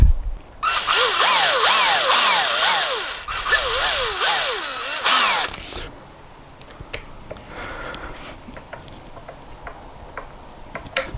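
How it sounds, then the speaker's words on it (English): A power drill whines in rising, repeated bursts for several seconds, drilling a shallow hole into the end of a headless guitar's neck, stops, then gives way to quieter clicks and handling noises. "I'm going to drill into the end and secure those 2 there"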